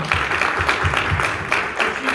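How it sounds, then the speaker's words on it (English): Audience applause at an alumni night plaque dedication in a school setting, a loud, steady patter of many hands clapping throughout, with faint crowd murmur underneath. "So give her a round of applause for being here."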